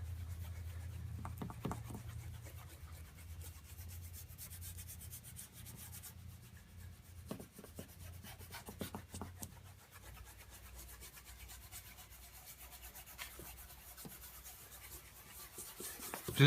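Steady rubbing and scrubbing of baking soda toothpaste buffed into a car headlight, a continuous close-up gritty scratching with faint low rumble, no talking.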